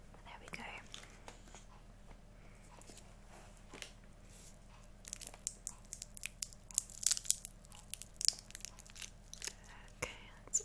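Close, quiet crinkling and tearing of a sticky cherry candy wrapper on an individually wrapped American sweet, with bursts of crisp rustles growing busier in the second half and a soft whisper-like texture throughout.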